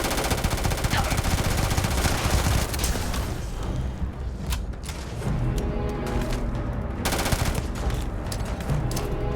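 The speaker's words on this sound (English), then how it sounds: "I'm gonna mag dump this one" In the Starfield game, a weapon empties a full magazine in a dense, loud stream of rapid automatic shots that runs nearly unbroken, pauses briefly, then bursts again.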